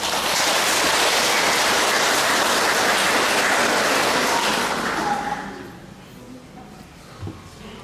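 Applause at a church wedding blessing ceremony: a dense, steady wash of clapping from a crowd that fills the room, then thins out and fades to a quieter murmur near the end.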